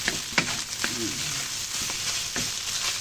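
Egg fried rice being stir-fried in a wok, home style, with a steady close sizzle and a few scraping stir strokes of a spatula, no talk.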